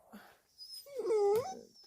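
A dog lets out a short whining yelp, close and fairly loud, preceded by a faint soft whimper.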